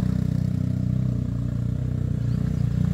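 A motorcycle engine idles and runs steadily nearby, a low rumbling drone with no talking.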